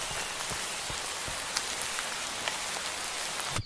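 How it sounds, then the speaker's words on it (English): Steady rain patters on a surface with a constant hiss and occasional louder drops, no voices; rain sound in Minecraft. "reworked rain sound"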